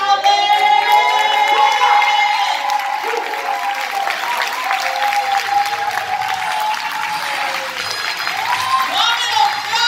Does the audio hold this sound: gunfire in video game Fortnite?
no